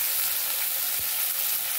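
Onion dropped into hot oil for a fish roe dish gives a soft, continuous frying sizzle with a short thump as it lands, close and fairly quiet, no talk.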